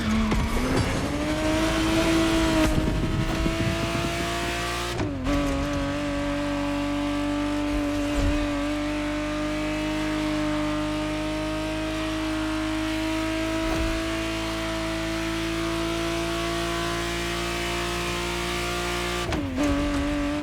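A 1991 Ferrari Testarossa 512 in The Crew Motorfest racing game holds a loud, sustained engine roar at high revs, climbing at first and then droning evenly, broken by brief shift-like dips near the start and end, with no talking.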